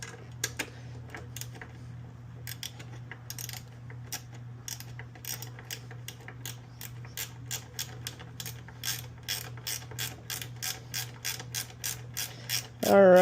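Fasteners being tightened on the fairing of a Kawasaki ZX-4RR carbon inner cowling. A ratcheting tool gives sharp clicks in quick bursts, becoming more regular and louder toward the end, over a low steady hum, with no talking.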